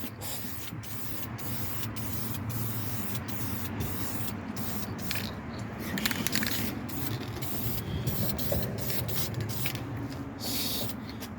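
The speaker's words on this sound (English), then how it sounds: "All right, so we're gonna spray it now." An aerosol spray can paints an engine valve cover, hissing in repeated bursts, a steady spray broken by short pauses and the occasional rattle, close by with no talking.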